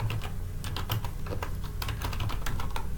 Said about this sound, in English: So I need to type in that student's first and last name.